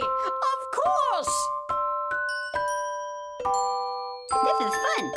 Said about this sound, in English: I'm ringing the little bells, just as the song suggests